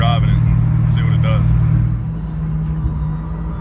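A 1996 Ford Mustang Cobra with freshly changed spark plugs runs while driving, its steady low engine drone and road rumble continuing throughout, louder in the first half and easing slightly, with a person talking over it.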